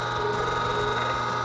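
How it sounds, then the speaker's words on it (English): Electric meat grinder running chilled meat through a 3/8-inch plate for a first grind of pineapple teriyaki bratwurst, a steady close mechanical whir with a fast rattling, ratchet-like pulse and no voices. "We're set up with the 3/8-inch plate here for the first grind. Just let the machine do its work."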